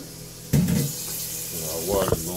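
Water from a tap runs into a pan in a kitchen with a soft splashing hiss, and a voice speaks briefly over it near the end.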